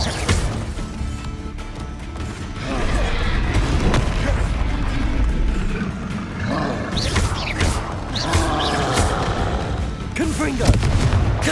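Confringo spell blasts in Hogwarts Legacy, repeated booming explosions and crackling impacts amid dense combat noise, loud and close, with a voice talking intermittently underneath.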